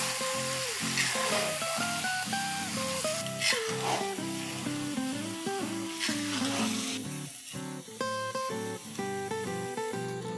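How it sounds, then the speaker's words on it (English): Onion paste sautéing in a pan for Lahori chicken, a continuous sizzle and occasional stirring heard beneath background music. "Now let's add paste of 1 large onion. And we'll saute this further for about"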